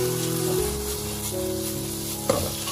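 Shredded pork stir-fried with garlic in a wok over low heat gives a steady sizzle throughout, with scraping stir strokes and one sharp clink near the end.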